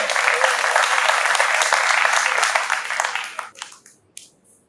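Dense audience applause for the district mayor at a book presentation on Miguel Checa y Checa. It is loud and steady for about three seconds, then thins into scattered claps and dies away.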